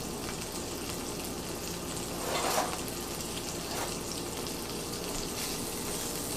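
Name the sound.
squash frying in a skillet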